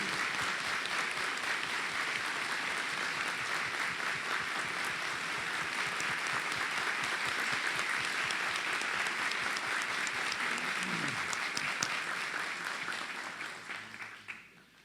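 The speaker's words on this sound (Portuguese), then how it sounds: "nós vamos saudá-la com uma bonita salva de palmas" Sustained round of applause from a congregation at a university anniversary mass, dense steady clapping that holds for about twelve seconds before tapering off and fading out.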